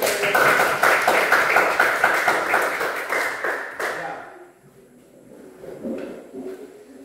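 A classroom group claps hands together in brisk, fairly loud applause for about four seconds before it fades out, leaving quiet room sound with faint voices and light movement.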